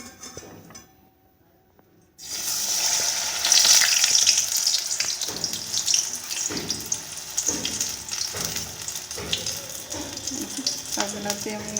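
Stuffed capsicum frying in oil in a pan for a capsicum and tomato curry. A quiet moment gives way to a steady, fairly loud sizzle with occasional soft stirring and scraping sounds.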